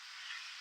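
Potatoes and carrots fry in a pan with a faint, steady, hissing sizzle, heard briefly on its own.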